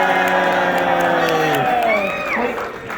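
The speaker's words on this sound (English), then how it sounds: "This is the moment where we're all supposed to cheer." An audience at a Kingdom Hearts convention panel cheers and whoops. Loud shouts rise over sustained tonal voices, then settle into scattered hollering.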